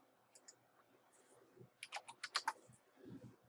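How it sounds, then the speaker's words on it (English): Quick keystrokes on a computer keyboard while entering a command on a Windows PC, a handful of scattered taps followed by a tight run of crisp clicks, close and fairly quiet. "Right click the start menu, click run, type command."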